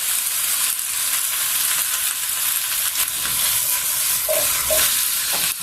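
Vegetables in olive oil hiss and sizzle continuously in a cooking pot, with a loud steady frying noise and faint stirring knocks toward the end.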